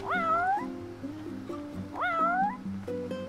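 A cat meows twice in Final Fantasy XV, clear rising-falling meows set over a soft synthesized musical backing, fairly quiet.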